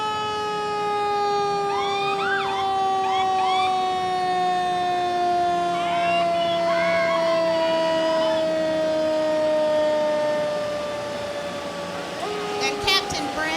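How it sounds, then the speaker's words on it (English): Fire department ladder truck at a Christmas parade sounding a loud, steady wailing siren that slowly drifts down in pitch, with a sharp horn-like burst near the end. "from the Kannapolis Fire Department, one of their ladder trucks. And it's loud, Suzanne."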